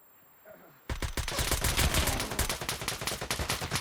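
Gunfire in Escape from Tarkov on the Shoreline map breaks out suddenly after near silence, a dense, loud volley of rapid automatic shots that keeps going steadily to the end.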